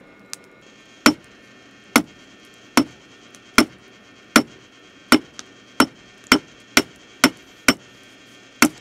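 Hammer blows ringing on hot metal over a cold anvil at a small blacksmith forge, about a dozen sharp, loud, evenly spaced strikes that speed up slightly toward the end, each with a short metallic ring.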